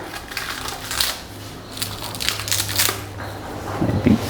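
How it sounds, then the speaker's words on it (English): Plastic packaging around 3D printer parts for an Ender 3 V2 is unwrapped up close, giving loud crinkling and crushing rustles in uneven bursts with a few sharper handling knocks near the end. "Let me just unwrap this."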